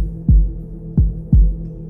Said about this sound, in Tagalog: Biglang bumilis ang tibok ng puso ko.